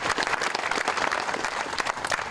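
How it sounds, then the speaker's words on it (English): Sustained audience applause at a fire department wet down ceremony in the Village of Tivoli, a dense steady wash of many hands clapping at close range without a break. "give them all a round of applause for being here"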